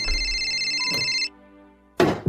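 A cellphone rings with an incoming call, its electronic ringtone repeating in steady bursts before cutting off. After a short quiet gap comes a sharp thud and a short, loud rustle.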